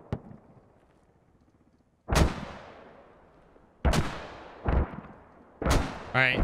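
Mortar fire and impacts in Squad, a 100-player battle against Russian defenses: a faint launch followed by several loud, sharp booming blasts spaced a second or two apart, each decaying with a rumbling tail.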